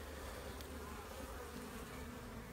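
Honey bees buzz steadily at a hive entrance where foragers carry pollen in, a dense continuous drone heard close up with no talk.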